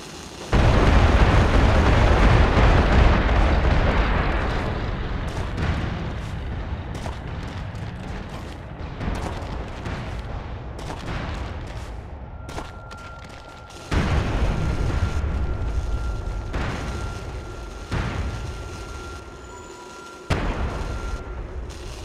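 Artillery fire mission explosions in the military shooter game MAG: a long, loud rumbling barrage of blasts that eases off, then several more heavy booms follow in separate bursts.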